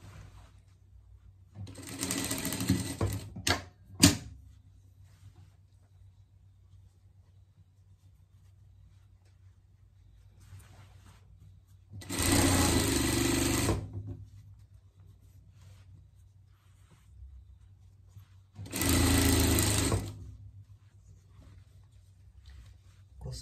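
Domestic sewing machine sewing a seam on a pet parka, three separate bursts of quick stitching, each a few seconds long, with quiet handling of the fabric between them.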